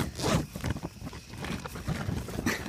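A zipper is worked open in several uneven rasping pulls, close and fairly quiet, with shuffling and rustling between strokes and no talking.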